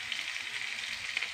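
Curry leaves crackle and sizzle in hot oil for a horse gram and banana flower thoran, a steady bright hiss held at close range with no talking.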